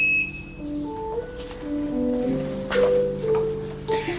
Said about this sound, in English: The beeping comes from the Flair.